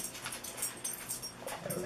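A pet dog whimpers and yips faintly in a room, a few soft, breathy whines and small noises over quiet background.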